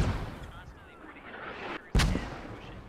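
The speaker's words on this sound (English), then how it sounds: "More mortars inbound on the castle." Mortar shells landing around a castle compound in the military shooter Squad, with a distant rumbling impact followed by a sharp, loud blast late on, while players talk over the game audio.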